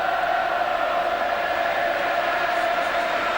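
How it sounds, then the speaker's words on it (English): Stadium crowd at a 2003 rugby league match between Hull and Wigan, a steady, dense roar of many voices holding at constant loudness throughout, with no single voice standing out. "listen to this crowd"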